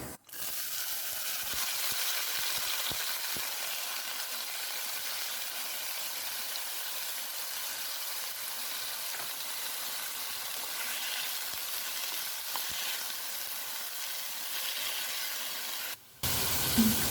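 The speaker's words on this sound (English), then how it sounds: "So I'll add the beans now." Green beans frying in a pan with red chili and hing, a steady broadband sizzle running continuously and evenly until a brief break near the end.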